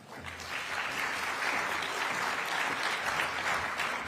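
An audience at an affordable housing summit in Raleigh applauds, dense clapping from a large crowd that holds steady and fairly loud throughout, with no speech on top.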